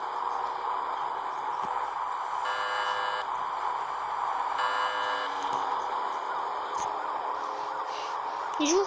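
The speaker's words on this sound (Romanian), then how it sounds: "Uitați ambulanța." Ambulance siren in a video game, a steady wailing tone that swells in a couple of bursts over a continuous background bed of game sound, moderately loud, with no voices.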